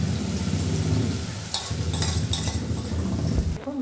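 Egg mixture poured into hot oil in a wok, a steady close sizzle with scraping and stirring clatter on top, and no talk.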